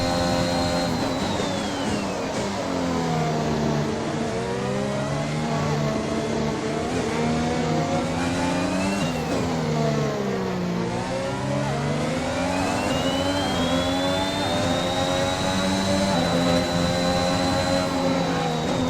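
Formula 1 race car engines in the F1 2021 video game roar continuously and loudly at high revs, pitch climbing and falling through gear changes as multiple cars run close together in the slipstream.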